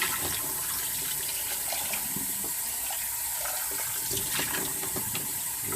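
Tap water pours steadily into a cooking pot of rinsed snails, a continuous close rushing splash with no talking over it.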